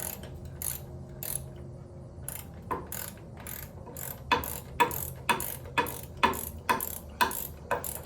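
A hand ratchet loosens mounting bolts on a Jeep JK Rubicon outdoors. Close, crisp clicking comes in short bursts at first, then settles into a steady rhythm of quick ratcheting strokes.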